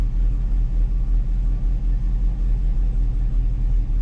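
A car engine fitted with an AEM wideband sensor runs at a steady, loud, low idle rumble with faint rhythmic pulsing throughout, close by and with no talk.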